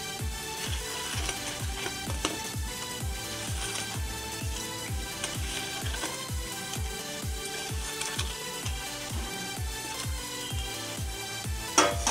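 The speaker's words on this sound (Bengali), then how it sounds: "এবার আমি বড়াগুলো যে ভেজে রেখেছি দিয়ে দেব।" Fried chhana koftas dropped into a pan of simmering curry, giving a steady, dense sizzle and bubbling throughout with a rhythmic series of soft thumps, close and moderately loud, no talking.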